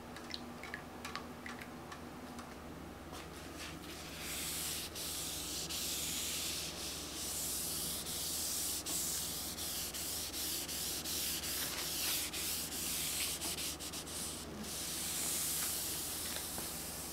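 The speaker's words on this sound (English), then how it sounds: "and then once again sanded everything smooth" Hickory wood being sanded smooth, a steady rasping rub that builds after a few seconds and continues without pause, moderately close and alone with no talking.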